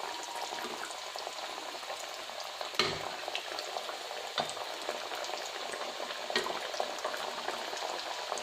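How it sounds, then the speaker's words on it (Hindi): Chicken nuggets frying in hot oil over very low heat, a steady dense bubbling sizzle that holds evenly throughout with a few faint clinks, close and continuous with no talking. "तो अब इसमें ये नगेट्स डालते हैं। इसकी आंच बहुत ही हल्की कर दी है मैंने"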